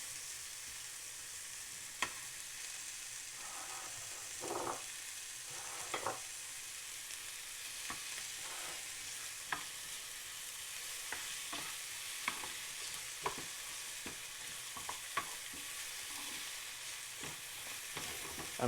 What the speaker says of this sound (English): let that onion brown down a little bit. So a tiny sprinkle of salt, just to help that onion to brown down.